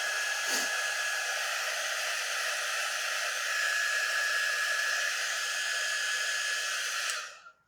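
A hair dryer blows steadily to dry paste on a homemade backyard bar and grill sign, a constant close whooshing hiss that cuts off abruptly at the end.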